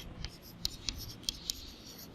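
Hand writing on a surface during a Class 8 maths lesson on cubes and cube roots, heard as a few soft, scattered scratchy strokes, quiet and close, with no talking.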